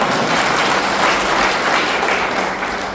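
A crowd claps loudly and continuously at a political speech by a Shiv Sena leader in Chiplun, the applause forming a steady, dense wash of sound with no talking.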